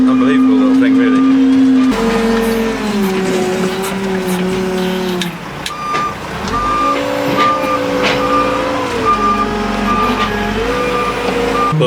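Small 6.3 ton lift machine on a farm running its hydraulic pump, a loud engine drone with a whining tone that rises and falls as the hydraulics work, steady and close with someone talking over it.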